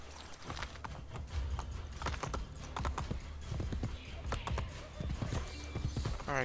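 Video game horse hooves in Assassin's Creed: Brotherhood clip-clop in an irregular rhythm on hard ground, close by, with a faint snort or whinny mixed into the steady steps.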